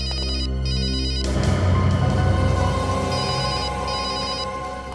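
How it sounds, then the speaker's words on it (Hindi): A telephone rings with a repeating electronic trill, loud and close, cutting in over a sustained musical score in a dramatic crime scene; the ring pattern repeats in short bursts with no talk. "फोन कहाँ बज रहा है?"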